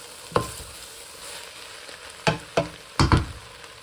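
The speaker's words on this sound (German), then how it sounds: "jetzt werden die Zwiebeln langsam angeröstet" Onions that have cooked for half an hour slowly roast in a pot, a soft low sizzle underlying several distinct scraping stirs of a spoon, clustered near the end, with no talking.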